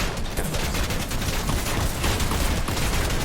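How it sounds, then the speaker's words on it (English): Rapid shotgun blasts in a battle-royale video game, dense and loud with overlapping booms filling the whole moment, no talk over them. "Those shotgun shots though"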